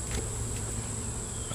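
Honey bees buzzing around an opened, weak summer hive during an inspection, a faint, steady, close drone with a thin high whine riding over it.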